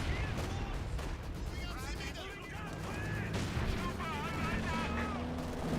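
A Brumbar assault gun in Company of Heroes 2 fires on sandbag cover, with booms and gunfire mixed into a busy battle soundscape under continuous talk from a commentator.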